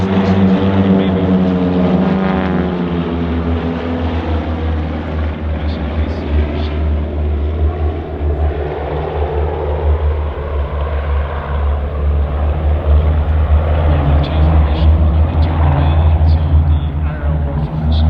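A propeller aircraft flying slow-speed aerobatics at the RIAT airshow in 2024 gives a loud, steady engine drone and a rumbling propeller hum that swell and fade gently as it passes, heard throughout.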